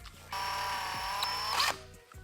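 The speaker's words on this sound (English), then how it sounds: "we're gonna drill into this thing with a 5mm drill bit" A power drill with a 5mm bit bores into a peened aluminum set screw in a motorcycle fork lug, whining at a steady high pitch for over a second before winding down, loud and close.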